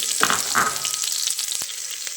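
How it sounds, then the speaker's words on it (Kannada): Chopped onions fry in a tempering on low flame, giving a steady close sizzle with a couple of soft stirring scrapes early on, with no voices. "ಇದಿಷ್ಟನ್ನು ಲೋ ಫ್ಲೇಮಲ್ಲಿ ಇಟ್ಕೊಂಡು ಒಗ್ಗರಣೆಗೆ ಹಾಕೋಬೇಕು. ಅದೆಲ್ಲ ಸ್ವಲ್ಪ ಫ್ರೈ ಆದಮೇಲೆ ಒಂದು 2 ಮೀಡಿಯಮ್ ಸೈಜ್ ಈರುಳ್ಳಿನ ಕಟ್ ಮಾಡಿ ಇಟ್ಕೊಂಡಿದ್ದೆ, ಅದು ಸಹ ಹಾಕ್ಕೊಳ್ಳಿ."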